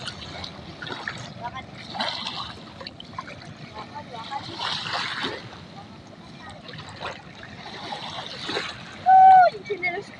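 Children splashing and sloshing in the sea in the morning, with outdoor ambience, voices talking throughout and a brief high shout near the end.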